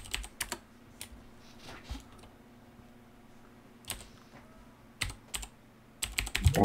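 Sparse computer keyboard typing during an online game session, scattered quiet clicks with pauses, then a quicker, louder flurry of keystrokes at the end.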